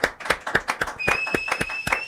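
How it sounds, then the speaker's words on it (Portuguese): Scattered hand claps from a small group of listeners applauding a team, irregular and fairly close, with a faint steady tone running underneath through the second half. "vamos pedir uma salva de palmas pra todo mundo do nosso time"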